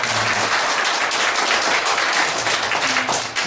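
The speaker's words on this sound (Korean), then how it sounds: "여러분 다시 한번 정말 좋은 조경태 의원님께 큰 박수" Steady applause from an audience at a lecture honoring a Korean lawmaker, dense, even clapping holding at full level for several seconds with no voices over it.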